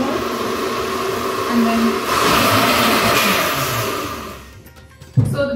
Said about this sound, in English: so the blender is a bit stuck now from the fiber